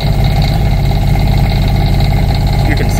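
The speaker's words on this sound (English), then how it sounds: "we'll go ahead and start it" An Onan diesel generator cold-starting on a cold morning, its engine already running in a loud, steady idle with a rapid pulsing chug, close and unbroken throughout.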